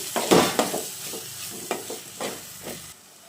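A spoon stirs chili powder into chicken masala gravy frying in a pan, giving a series of scraping strokes over a soft, continuous sizzle, close and fairly quiet, ending abruptly.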